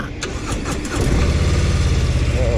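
A Harley-Davidson Softail Standard motorcycle engine cranks with a few rapid starter chugs, then catches and settles into a loud, deep, rumbling idle close by.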